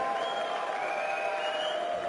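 An esports arena crowd at CWL London cheers and applauds for OpTic Gaming, a dense, continuous roar with whistles rising over it, loud and steady throughout.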